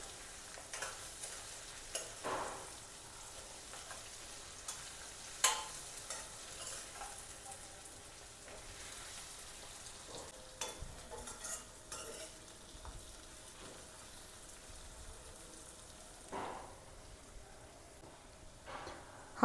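Potato and aubergine dry curry is stirred in a pan after garam masala is added. A quiet, steady sizzle runs under intermittent soft scraping from the stirring spoon.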